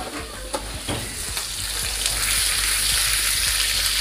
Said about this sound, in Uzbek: qovurishni boshlaymiz.